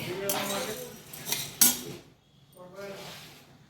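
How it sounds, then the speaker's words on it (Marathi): Chana dal is dry-roasted in a pan for puran poli, heard as close metallic scraping and rattling of a spoon against the pan with a sharp clank midway, then quieter stirring. "आता डाळ मी भाजून घेत आहे"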